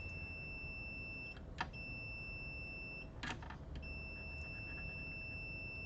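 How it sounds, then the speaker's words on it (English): A steady electronic multimeter continuity beep sounds repeatedly while testing an Xbox One S with a no-power fault, broken by a few short clicks and taps, fairly quiet with no voices. "Okay, so we're getting a beep."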